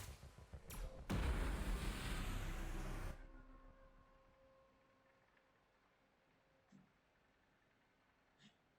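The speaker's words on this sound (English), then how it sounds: "Unleash the nuclear hand grenade." A nuclear hand grenade detonating in the Paranoia: Happiness is Mandatory video game, a sudden loud roaring blast lasting about two seconds that rumbles and fades out into near silence with faint ticks.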